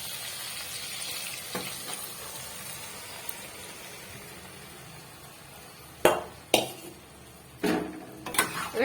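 Boiled dal goes into a hot pan with paneer and vegetables, a soft steady sizzle giving way to several loud wet splashes and scraping stirs near the end.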